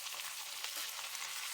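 Fish pieces coated in green masala fry in a pan, giving a steady, fairly soft hiss of sizzling oil that runs unbroken with no voices.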